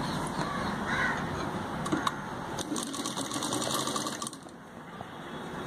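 Sewing machine stitching the side pieces of a kameez dress, joining the good sides a quarter inch in, a steady continuous mechanical whir close by, with crow caws in the background.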